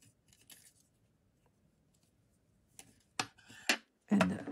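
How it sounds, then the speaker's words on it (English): Scissors snip through a crocheted yarn tail during flower work with wire, three or four crisp close cuts arriving in quick succession after a quiet stretch, with no talking. "and cut this yarn tail"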